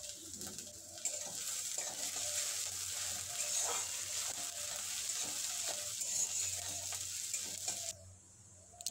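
Chopped onion frying in a pan, a steady close sizzle with light stirring scrapes throughout, cutting off abruptly near the end.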